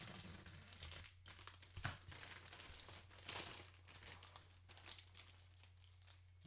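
Plastic bag holding parts of a 1/100 Full Mechanics Gundam Vidar model kit being unwrapped, a faint, close crinkling and rustling in irregular bursts against a low steady hum.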